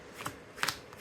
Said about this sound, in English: Little pile shuffle here.